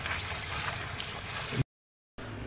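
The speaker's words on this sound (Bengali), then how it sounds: "এবার আমি ডম্বুরগুলোকে আস্তে আস্তে করে ধুয়ে নেবো ভালো করে" Fruits being washed by hand in a bowl of water, a close continuous sloshing and splashing that stops abruptly, then resumes briefly after a short silence.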